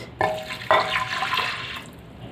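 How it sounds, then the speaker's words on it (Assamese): A glass of water is poured into a pressure cooker holding lentils and mango, heard as two quick gushing splashes in close succession that fade into a brief trickle. "পানী দি দিম এগিলাচ"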